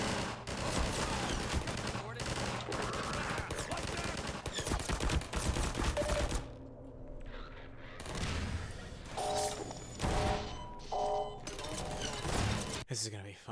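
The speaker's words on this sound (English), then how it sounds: "Oh, you freaking floor turrets." Floor turrets in the video game Half-Life 2 fire rapid automatic bursts, loud and dense, breaking off briefly midway and then resuming in shorter volleys, with a player's voice talking over the gunfire.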